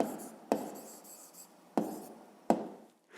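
A pen scratching an answer onto paper during a fifth-grade maths exercise, with soft rubbing strokes broken by three sharp taps, close and quiet, with no talking.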